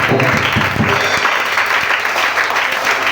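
A church congregation at a youth seminary applauds in a dense, sustained burst of clapping that fills the room, loud and continuous throughout with no talk over it.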